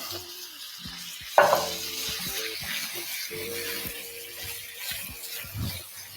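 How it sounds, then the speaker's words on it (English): Worcestershire sauce hits a hot pan with a soft sizzle and hiss, accompanied by a sharp clatter and stirring clinks, plus faint low hum in the background. "So now I'm going to add my W sauce."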